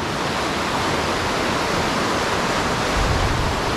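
Water from a river near Cagayan de Oro, Philippines, rushing hard in a dense, steady roar that stays loud and close throughout with no voices.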